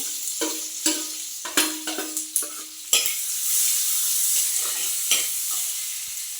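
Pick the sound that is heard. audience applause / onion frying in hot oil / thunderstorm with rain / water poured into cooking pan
onion frying in hot oil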